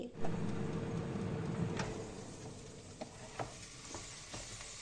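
A steady sizzling hiss comes from Isan sausages cooking in an air fryer, with several sharp clicks and light knocks scattered through it, close by and without speech.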